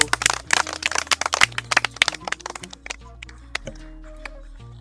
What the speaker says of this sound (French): Applaudissons pour Tonton Sao